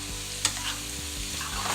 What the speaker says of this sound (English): It is time to add our shrimp back in, and then as soon as these get stirred in here